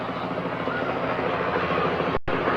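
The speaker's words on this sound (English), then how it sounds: "There's a helicopter coming in." A helicopter flies in near a hospital just north of a high school football field, its steady broadband rotor roar loud and continuous throughout, with a brief dropout near the end.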